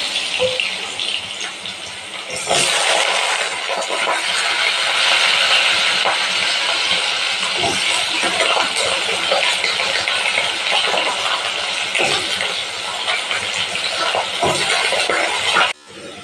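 Potatoes fry in white cooking oil, a steady loud sizzle and hiss that runs throughout and swells after the first couple of seconds, with no talking.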